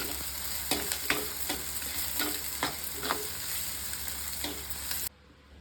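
Onions fry in oil until brown with a steady close sizzle, punctuated by regular scraping stirs roughly every half second, before the sound cuts off abruptly near the end.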